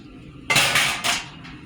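A metal baker's rack is set down on a pan for frying green tomatoes, giving two sharp, ringing metallic clanks in quick succession, close and clear with no voices.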